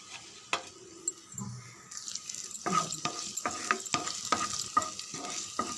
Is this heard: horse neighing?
no